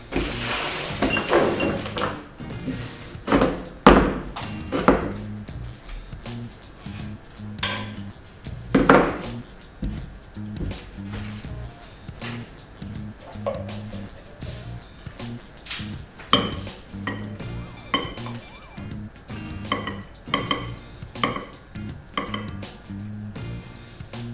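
Dishes, pots and cutlery being cleared away in a home kitchen after cooking fried rice, with a long series of clinks, clatters and knocks, some loud and close, others softer, spaced irregularly throughout.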